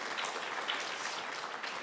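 A seated audience at a national sports museum academic conference gives sustained applause, a soft even wash of many hands clapping at moderate distance, alone with no talk.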